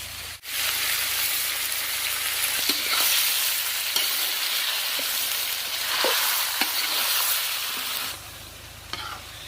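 Pieces of meat frying in oil with ginger-garlic paste and tomato, a steady loud sizzle close by, broken by a few soft stirring scrapes and taps, no voices.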